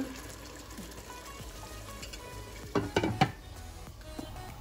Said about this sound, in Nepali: अब म यसमा अलिकति पानी थप्दैछु ग्रेभीको लागि।